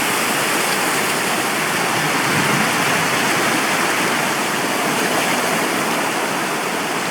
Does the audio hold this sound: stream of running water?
yes